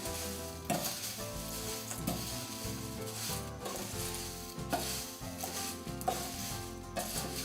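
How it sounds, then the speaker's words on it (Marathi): Poha chivda being tossed and mixed with powdered sugar and salt, a close rustling, scraping stir repeated in uneven strokes, fairly quiet, no speech. "ह्याला अलगद ह्याच्याने मिक्स करून घेऊया वर खाली करून घेऊ"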